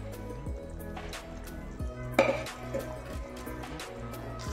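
A spoon stirs dry chickpea masala (chole) in a pan, giving faint, close scraping and soft clinks of metal on metal with a low background hum.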